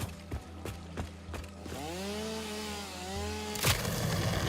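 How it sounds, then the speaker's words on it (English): A chainsaw in the game Satisfactory revs into a loud, steady whining buzz with wavering pitch after a few short knocks, close and continuous. "I need to grab my chainsaw."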